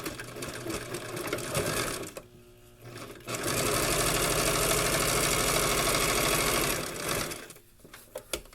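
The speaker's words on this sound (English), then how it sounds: "So you want to sew your sides together." Electric sewing machine stitching the side seams of a fabric lining for a crocheted bag, running in a steady loud whir with a brief pause and restart, then stopping with a few clicks.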